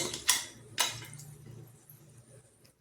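A spoon clinks sharply twice against a pan while ground powder is stirred into upma, followed by soft scraping and a low hum of the stove flame, quiet and close.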